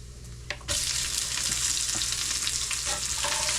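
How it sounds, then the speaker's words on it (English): Chopped onions dropped into hot bacon grease in a pan, starting with a soft clink and then a loud, steady close sizzle and crackle that continues without a break. "just start adding in your onions"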